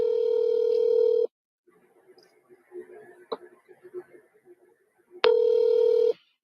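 A telephone call being placed: a steady dial tone sounds at the start, then a quiet pause with faint clicks and a beep, before the loud tone returns near the end.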